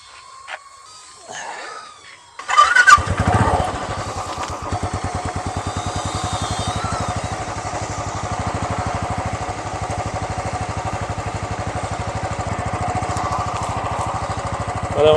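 A motorcycle starts up and runs steadily with a fast, even engine pulse, loud and close throughout while a DJI Neo 2 drone follows the bike; no one speaks.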